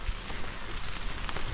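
Light rain falls steadily during a low-pressure spell over a mulched vegetable garden with chili and tomato plants, a soft continuous patter with a few sharper drop hits and no talk.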